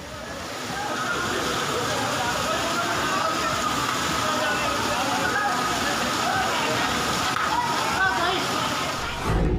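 Floodwater rushes and sloshes through a market street after heavy rain, a steady loud churning flow that carries on without a break.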